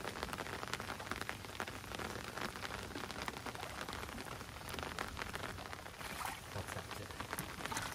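Steady heavy rain pours down outdoors, a dense, continuous patter drumming on surfaces, loud and close throughout with no voices.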